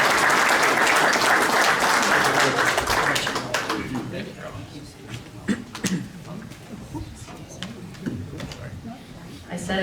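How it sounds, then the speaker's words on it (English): A crowd applauds Erica Muhleman of the Cleveland Browns front office at a conference, the clapping loud and dense for the first few seconds, then thinning to scattered claps under faint murmuring. "let's give Erica a round of applause to get up here"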